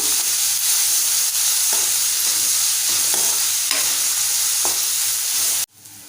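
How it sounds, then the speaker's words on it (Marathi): Onions and tomatoes fry with salt in a pan for a Malvani-style clam masala, a steady close sizzle broken by repeated scraping stir strokes, then cutting off abruptly near the end. "थोडंसं मीठ घालूया म्हणजे टोमॅटो लवकर नरम होतील मिक्स करून घेऊया"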